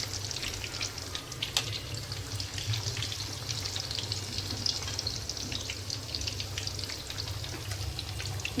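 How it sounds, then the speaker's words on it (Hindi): Vadas sizzle and crackle in hot oil in a pan, a steady dense fry noise with faint clinks and pops running throughout. "बस उसी में वापस से थोड़ा तेल मैंने और ऐड किया और लग गई फ्राई करने।"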